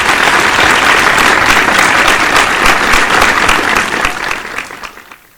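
Loud, steady audience applause at an awards ceremony for bravery, continuous clapping from a crowd that tapers off toward the end.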